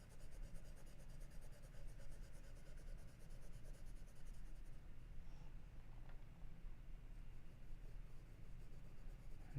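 Charcoal rubs steadily back and forth across paper while a mountain valley is drawn, a soft, continuous, close scratching with no talk.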